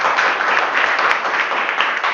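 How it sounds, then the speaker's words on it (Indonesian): A class group applauding in a morning session, continuous dense clapping at even loudness throughout. "Oke, beri tepuk tangan untuk kelompoknya."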